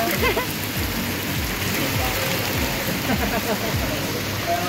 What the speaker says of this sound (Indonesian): ah hujan sore ya